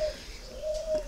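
A pigeon coos close by, a soft low hooting call repeated in a short phrase, with faint chirps in a quiet outdoor setting.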